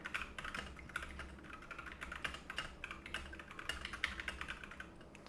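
Folder name being typed on a computer keyboard, a quick run of close, crisp key clicks that continues throughout with no talking.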